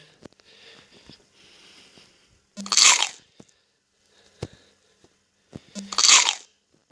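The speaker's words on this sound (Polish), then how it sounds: "jakby się naprawdę jadło jabłko, to tak samo brzmi" Two crisp, loud crunching apple bites from a mobile snake game, each followed by soft chewing and a few small clicks, heard close up and alone.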